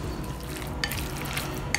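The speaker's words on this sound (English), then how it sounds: "Mix them up well first" Beef being mixed by hand with water, baking soda, cornstarch and pepper for a Chinese stir fry: a close, continuous wet squelching and stirring with a couple of sharper clicks near the end, no talk.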